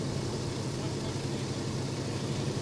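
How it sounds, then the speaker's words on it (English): An Avro Lancaster bomber's engine runs at a museum in Nanton, Alberta, giving a steady, dense, unbroken roar with a low throb, loud and continuous with no voices. "we are watching the engine run, the Lancaster at the Bomber Command Museum of Canada"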